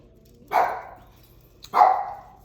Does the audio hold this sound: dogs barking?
yes